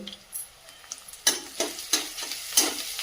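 Onions sautéing in a pan with a pinch of asafoetida and salt, stirred in repeated scraping strokes over a light, steady sizzle, close and clear with no talking.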